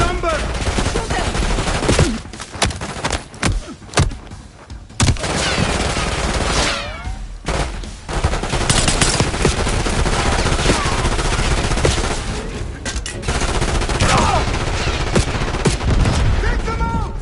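Black Ops combat fills the scene with dense, loud gunfire: rapid automatic bursts, single cracks and distant booms in a sustained firefight, with shouted voices breaking through at times.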